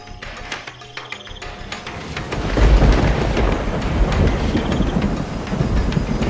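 Rain and thunder effect in a read-aloud telling of The Lion and the Mouse: a dense, steady hiss of heavy rain swells in with a deep rumble of thunder, loud and continuous, with no voices.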